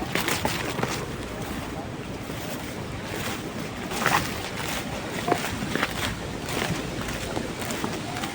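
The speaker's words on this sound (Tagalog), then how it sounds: "Lakas ng hangin." Loud, constant wind roaring and buffeting, close and rough, with water and engine noise mixed underneath.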